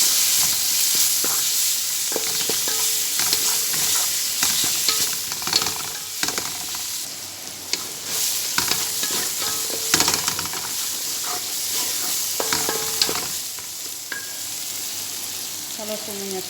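Ginger and garlic frying with onions in a pan, a continuous close sizzle broken by frequent scraping and stirring clatters, no talk.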